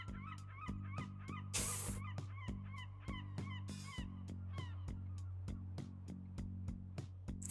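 Harsh, honking bird calls repeat in a steady rhythm at a lakeshore in a video game, read as seagulls, with a constant low hum beneath and two brief bursts of broadband noise.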